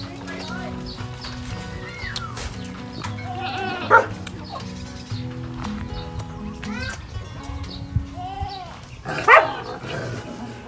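Backyard goats feeding on mango peels, with scattered bleats rising now and then over steady close chewing and rustling, plus a louder cry near the middle and another toward the end; no talk.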